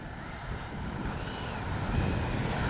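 Strong wind buffets an outdoor microphone at an RC jet flying field, a steady loud rumble and hiss that swells slightly louder toward the end, with no voices.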